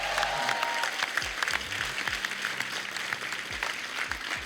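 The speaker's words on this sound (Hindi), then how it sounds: "जोरदार तालियां बनती हैं।" Loud, sustained applause from a TV comedy-show studio audience, dense clapping filling the whole stretch with a few low thumps and a brief tone near the start.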